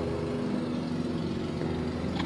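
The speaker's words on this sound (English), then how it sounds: "Stop mowing my lawn without my consent." Steady drone of a riding lawn mower engine mowing a lawn in the Roblox game ER:LC, a continuous low rumbling motor hum at even volume, close by, with no speech over it.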